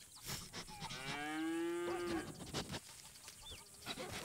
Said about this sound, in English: Oh, that's cows.